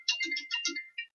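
Mobile phone ringtone going off in a radio studio during a morning sports broadcast: a quick bright melodic jingle of several rapid chirpy notes, fairly close and clear, ending after about a second with no talk over it.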